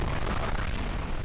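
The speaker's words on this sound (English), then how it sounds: "Look out! Grenade!" A grenade explodes in the first-person shooter video game F.E.A.R., giving a sustained loud, rumbling blast with heavy low-end boom and debris noise throughout.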